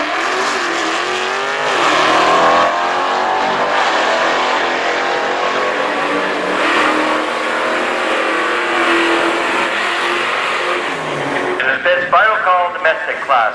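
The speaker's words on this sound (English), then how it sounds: "we got a Hellcat taking on a Demon" A Dodge Hellcat and a Dodge Demon roar down a drag strip at full throttle, a loud sustained rising engine howl heard from trackside that fades at the end as a crowd and announcer become audible.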